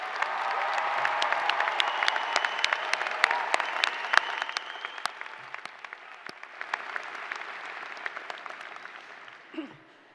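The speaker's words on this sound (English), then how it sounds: "Please join me in a loud round of applause to celebrate all the friends and family who" Sustained applause from the audience at a 2025 college of liberal arts commencement ceremony, steady clapping from a large crowd for about nine seconds before tapering off at the end.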